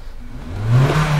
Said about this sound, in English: Oh, the engine started.